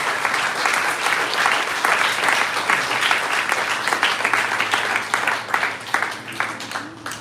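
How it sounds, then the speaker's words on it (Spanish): A church congregation applauds God during a revival service, loud sustained clapping from a large room with rhythmic peaks, mixed with scattered voices and a low hum. "Dele un fuerte aplauso a nuestro Dios, hermanos"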